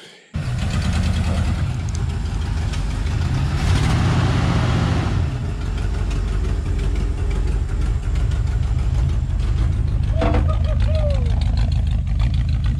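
A 1968 Ford F100 truck's engine runs with a loud, steady, rough idle that knocks and rattles from close by. Voices speak briefly over the running engine.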